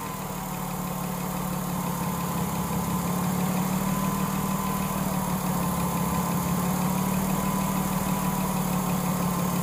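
2006 Ford Taurus 3.0L V6 idling steadily after a misfire, a constant close engine drone with a low hum and no talk.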